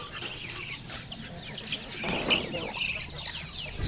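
Chickens and a rooster cluck together in a province yard, steady overlapping calls at moderate distance with a slight swell midway and no clear speech.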